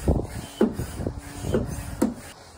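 A hand pump inflates the lid of an ice bath barrel with soft rhythmic strokes, four muffled whooshing pumps with faint rubbing between them.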